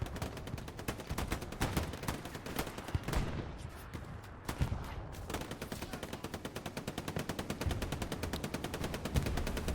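Rapid, rattling machine-gun bursts from the MG in the Hell Let Loose match, with sustained chattering strings of shots and a short lull midway, then steady, evenly paced fire resuming at moderate distance.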